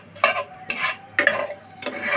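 Bay leaf and dried red chilies stirred in hot oil in a pan for a mango dal: a few separate scraping strokes of a spatula with a light sizzle underneath, close and clear.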